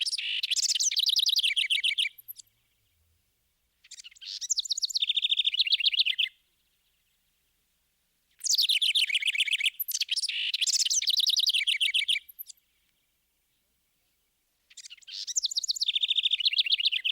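Backyard wrens building a nest sing in long, bright, rapid trilling phrases, four bursts separated by silent gaps, clear and fairly close with nothing else heard.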